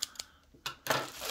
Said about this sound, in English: These scissors might be getting dull.